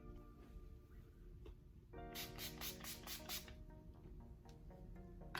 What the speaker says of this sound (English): I should set my face with setting spray,